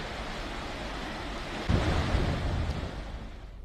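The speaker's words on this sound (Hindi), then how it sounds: "भारी बारिश के चलते सौंग नदी उफान पर चल रही है।" The swollen Song river rushes after heavy rain as a broad, steady roar of water, with a louder surge partway through and wind buffeting the microphone throughout.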